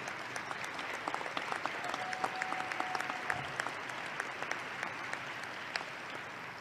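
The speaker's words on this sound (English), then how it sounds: "Let's give them a round of applause." A legislative chamber audience applauds the Illinois House Black Caucus during the Speaker's inaugural address, a sustained, moderately distant wash of many clapping hands with scattered sharper claps rising above it.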